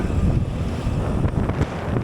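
Strong wind buffets the microphone in heavy, rumbling gusts, loud and continuous, with a faint wash like water in the background.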